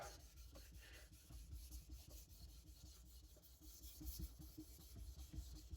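A knife edge is polished on a sharpening stone with faint, close rubbing strokes that rasp back and forth in a steady rhythm, with no talking.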